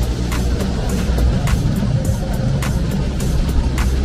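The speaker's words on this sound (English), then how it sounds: "Cable car." A running cable car gives a continuous low mechanical rumble with rhythmic clicks and clanks repeating about every half second as it rolls along.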